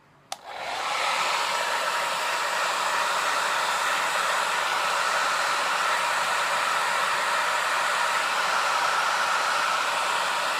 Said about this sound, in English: I like to take my blow dryer on warm air and medium speed and just shoot upwards.